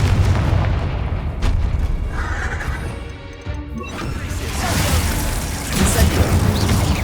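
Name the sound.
Confringo and Descendo spell blasts in Hogwarts Legacy video game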